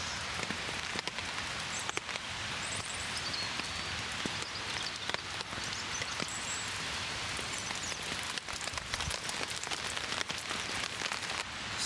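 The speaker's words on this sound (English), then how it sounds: "it's still drizzling a little bit" Light drizzle falling outdoors at a wild camp in the Galloway hills, a soft, steady patter of fine drops spread evenly across the whole stretch, with no voices.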